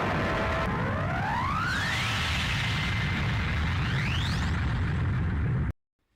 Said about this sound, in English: tell me which explosion seems more impressive to you